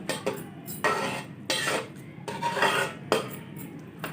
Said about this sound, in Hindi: अच्छी तरह से मिक्स करके ढक देंगे दोबारा